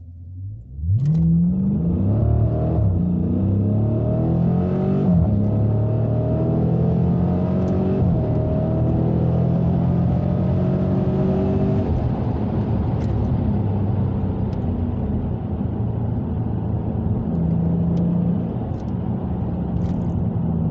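A muscle car in a custom sport mode setup launches hard, its engine revving loudly and climbing through the gears, the sound sustained and close for about twenty seconds.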